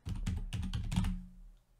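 Close, crisp computer keyboard typing while text is entered into a Draw.io diagram, about five quick keystroke bursts in an uneven rhythm before fading into quiet.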